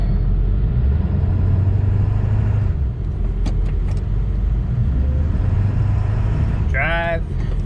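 A 1999–2003 Ford 7.3 Powerstroke truck with a 4R100 transmission idles in a loud, steady diesel rumble close by as it is shifted into reverse, with a voice briefly heard over the engine.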